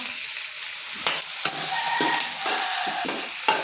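Chopped onions hit a hot pan already holding garlic and fry with a steady sizzle, broken by repeated scraping stirs of a spoon against the pan at close range.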